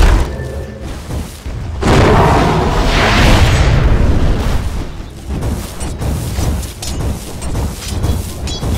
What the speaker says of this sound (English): Dire's middle barracks has been destroyed.